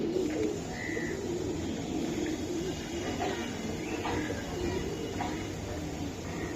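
Racing pigeons coo softly in a loft under a constant loud background hum, with a few faint chirps rising above the steady drone.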